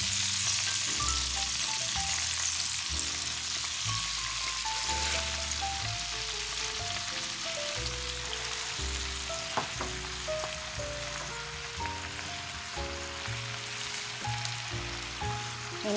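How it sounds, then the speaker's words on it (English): Spinach going into a hot pot for creamed spinach sizzles steadily, a loud dense crackle lasting throughout with faint stirring underneath and no talking. "Now you want to begin to add your spinach into the pot."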